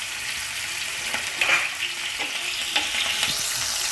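Two thinly sliced medium onions fry with curry leaves in a pan, a steady close sizzle punctuated by a few scraping stirs.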